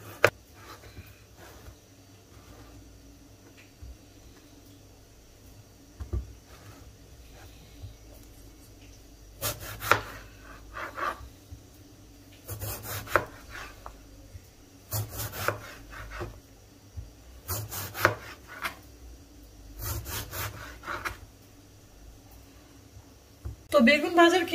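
Eggplant is sliced for frying in scattered bursts of knife strokes against a board, some single cuts and some quick clusters. A voice talks quietly throughout under a faint background hum.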